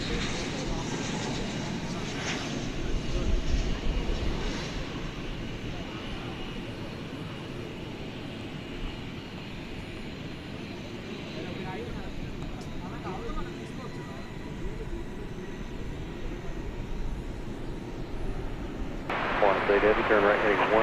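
A four-year-old Boeing 787 Dreamliner at DFW Airport at night makes a steady, fairly distant jet engine roar, with radio chatter heard over it.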